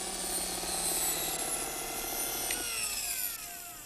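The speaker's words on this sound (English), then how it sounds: "It's a drill." A whining drill from a scene in the 1987 film RoboCop, a loud sustained mechanical whir with shifting pitch and sweeping tones, heard without talk.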